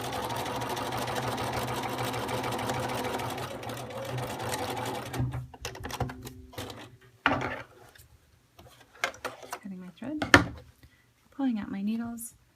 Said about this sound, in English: now I'm going to sew them on. I'm going to put this guy back under my machine